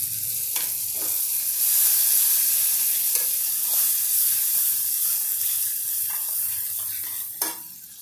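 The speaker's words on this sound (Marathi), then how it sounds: "आता हे दाणे चवळीचे उकडवलेले मी यात घालते। हे आपण आता परतवून घेऊया एकदा छान।" Boiled cowpeas are sautéed in a hot pan, a steady close sizzle with intermittent spoon scrapes and stirs running throughout, no voices over it.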